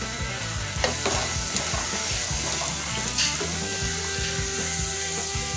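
Beans and carrots sizzling in hot oil for dosa upma, a steady close crackle with occasional scrapes and stirs of a spoon through the pan, no voices.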